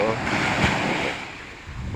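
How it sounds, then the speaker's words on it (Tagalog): Ocean waves wash onto a beach shore as a steady broadband surf roar with some wind buffeting, a brief swell near the middle, and a voice speaking over it. "Balod sa baybayon guys"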